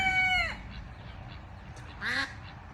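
Two nasal calls from ducks or geese, one at the start and another a moment later, close by over faint background noise.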